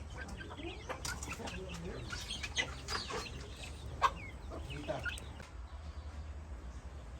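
Native chickens cluck and squawk in scattered bursts at a Philippine farm, fairly faint, over a low background hum. Voices are heard speaking nearby.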